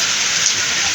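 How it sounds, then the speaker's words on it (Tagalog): Heavy typhoon rain hisses loudly and steadily in a dense, close wash of noise, with no speech. "nasa pa ako sa ulan"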